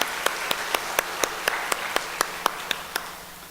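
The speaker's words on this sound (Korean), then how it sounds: "박수로 한개 영광 올려드리겠습니다" Steady, evenly spaced claps in a church service, about four per second, crisp and close, with faint room noise between them and no voices.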